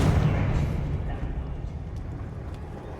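A Confringo fire blast spell from Hogwarts Legacy bursts with a heavy booming explosion, then a rumbling roar that slowly fades away.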